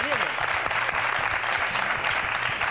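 Hand claps from a studio quiz show ring out steadily and closely for a couple of seconds, a brisk, continuous patter with no voices over it.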